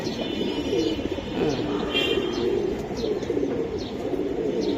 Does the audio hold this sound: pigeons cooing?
yes